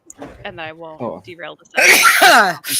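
A single sharp sneeze bursts out near the microphone right after a person talks, during a casual chat about highlighters and pens.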